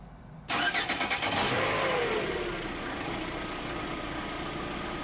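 A car engine cranks with a rapid stuttering starter rhythm from the battery, catches and fires, then settles into a steady idle that continues to the end; close and loud, with no talk.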